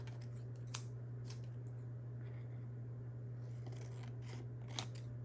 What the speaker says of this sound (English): I'm going to trim that acetate a little bit more because it's a little too much around the edges